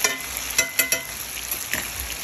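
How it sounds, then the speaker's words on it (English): Sausage fries in a pan with a loud, close, continuous sizzle, broken by several sharp crackling bursts as it is stirred or moved. "So I'm here frying up a little sausage."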